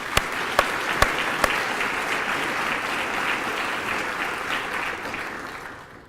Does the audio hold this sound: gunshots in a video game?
no